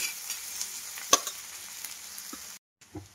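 Chopped green onions and regular onion sizzle and crackle in hot oil in a pan, with stirring clinks and scrapes. It is steady and close, then briefly silent before the frying resumes.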